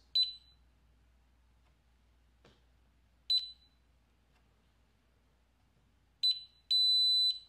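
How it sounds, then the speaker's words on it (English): A biometric pistol gun safe emits short, sharp electronic beeps during fingerprint enrollment: three single chirps spaced a few seconds apart, then a longer sustained confirmation tone at the end, close and clear against a quiet room. "When you hear that beep, that means your fingerprint is activated"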